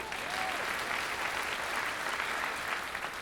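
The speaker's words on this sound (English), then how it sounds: "so can we give a round of applause for Rosanne?" Audience applause at an innovation keynote talk, a steady dense wash of many hands clapping that fills the whole stretch at even loudness, with no speech over it.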